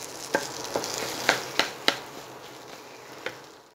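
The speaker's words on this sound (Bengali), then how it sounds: "এবার মশলার সাথে আলুটা ভালোভাবে মিশিয়ে আমি 4 মিনিটের মতো আবার ভাজা ভাজা করে ফিরে আসছি।" Diced potatoes cook with spices in a hot pan, giving a steady sizzle and fry. A spatula taps and scrapes against the pan several times, with no talking.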